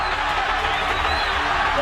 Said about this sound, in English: Listen to the crowd's reaction as Pacquiao scores.